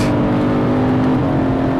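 Car driven fast at Thruxton circuit, a loud sustained engine drone from on board at high revs with a steady whine and a slight pitch shift, and no voices heard.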